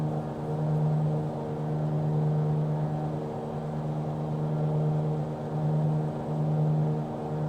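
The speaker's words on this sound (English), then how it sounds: "Are the engine sounds too loud in the Mooney here?" A Mooney light aircraft's piston engine drones in a flight simulator game, a steady tonal hum with a low buzzing note that swells and eases slightly, heard alone without talk.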